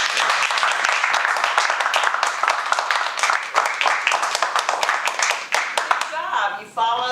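A Toastmasters meeting audience claps together in dense, sustained applause that fills nearly the whole stretch before tapering off, with a voice breaking in briefly at the close.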